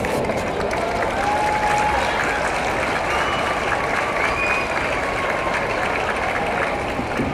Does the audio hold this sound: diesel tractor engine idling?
no